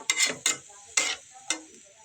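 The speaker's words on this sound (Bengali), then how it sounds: "আলু ডিম আগে থেকে সিদ্ধ করে নেওয়া আছে এখন জাস্ট হালকা একটু কষিয়ে" Boiled potatoes and eggs being lightly sautéed in a pan give four distinct scraping stirs with a soft sizzle between them, close and alone.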